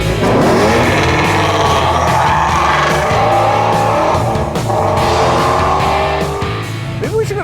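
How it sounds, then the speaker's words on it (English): Ford Shelby sports car engine roaring loudly and steadily while driving, with revving pitch changes throughout and a voice faintly underneath. "This may be the only car in the world that's actually louder than you."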